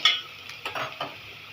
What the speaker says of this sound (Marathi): कांदा व्यवस्थित परतून घ्यायचा, तेलामध्ये फ्राय करून घ्यायचा आहे